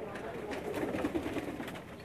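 Pigeons on a Pakistani rooftop loft in Sargodha, including old paired breeding birds about fifteen years old, give soft continuous cooing close by, with a low murmur of voices underneath.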